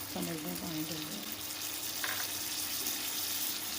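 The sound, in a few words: pouring a cup of water into a pot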